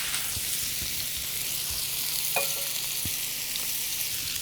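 Burger patties sizzle steadily in a frying pan, a close continuous hiss with occasional faint taps and scrapes and no talking.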